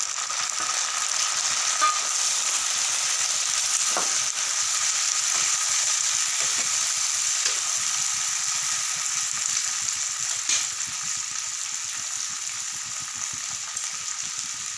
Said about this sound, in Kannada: ಅದರಲ್ಲಿ ಉಳ್ಳಾಗಡ್ಡಿ ಅವೆಲ್ಲ ಚೆಂದ ಕೆಂಪಗಾಗ್ಯಾವಲ್ಲ, ಈಗ ಟಮಾಟ ಹಾಕ್ತೀನಿ ನೋಡಿ